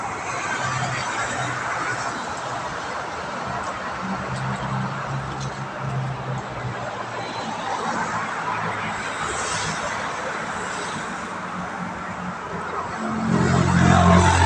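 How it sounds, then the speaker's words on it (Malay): Steady road traffic outside a hotel near a main road in Kuala Lumpur, a continuous broad rumble of passing vehicles that holds level throughout and swells louder near the end, with no talk. "Sebab itulah bunyi bising. Tengok bunyi jalan."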